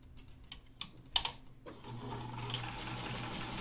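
A sewing machine chain-sews cloth medical masks, with a few sharp clicks and thumps before the machine settles into a steady, fairly quiet whirring run, no voices.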